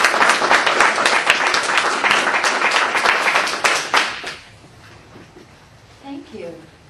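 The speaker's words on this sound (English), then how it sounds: "So please give a round of applause for Ms." An audience applauds as a speaker is introduced, a loud sustained round of clapping lasting about four seconds before fading out, followed by quiet and a voice beginning to speak.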